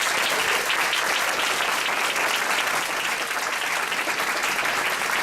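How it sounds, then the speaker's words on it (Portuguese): Sustained, dense applause fills the room as an audience welcomes an aeronautics speaker to the stage, loud and even for the whole stretch. "uma salva de palmas para o meu Paulo."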